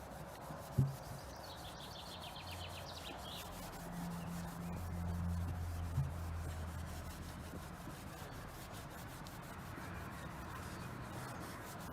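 Cloth wiping panel wipe solvent over a scuffed body panel on a wrecked 2018 Ford Fiesta ST, giving a steady, soft, close rubbing sound with one sharp knock near the start.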